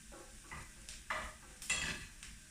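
Chinese sausage fries in a pan for fried rice, releasing its fat; soft sizzling runs throughout, broken by a few louder scraping stirs of a utensil against the pan.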